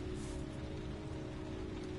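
Rain in the video game Heavy Rain, a dense steady hiss of drops pattering on surfaces with a faint low hum beneath, constant and even throughout with no voices.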